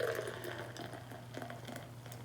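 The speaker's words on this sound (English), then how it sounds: "So we're going to pour it right down the center." An IPA beer poured down the center of a glass makes a soft, continuous splashing and fizzing gurgle, faint and steady throughout, with no talking.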